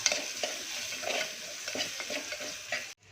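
Potato being sautéed with red chilli powder, turmeric and garam masala in oil, stirred steadily for a traditional val pulao, with a continuous close sizzle and repeated scraping strokes of the spoon throughout.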